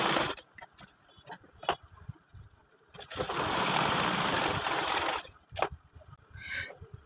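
A sewing machine stitches piping onto a baby girl's frock, a fast rattling whirr that runs in short and long bursts between clicks and handling noises, fairly close.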